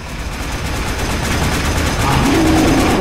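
Dense rapid gunfire from the video game Warframe rattles loudly and continuously, close up, with a tonal effect rising near the end.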